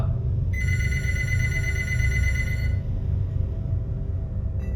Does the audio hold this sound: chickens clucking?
no